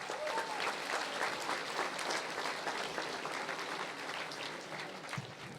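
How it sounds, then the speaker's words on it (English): A crowd of Tipperary supporters applauding at a minor hurling All-Ireland homecoming, sustained dense clapping outdoors that tapers slightly toward the end, with faint voices mixed in. "So a round of applause for Francis."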